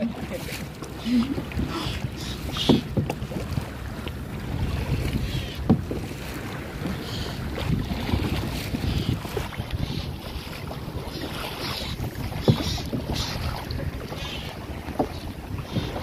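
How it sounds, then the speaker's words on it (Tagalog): A small boat pitches through strong waves, with steady broadband wash and rumble, low thuds from the hull striking the water, and heavy wind buffeting the microphone throughout. Voices are heard now and then. "Oh, lakas ng alon! Lakas ng alon!"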